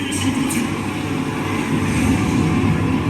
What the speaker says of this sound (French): Oh, l'hélicoptère.